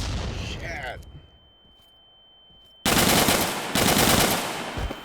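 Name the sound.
gunfire in the video game Burkina Faso: Radical Insurgency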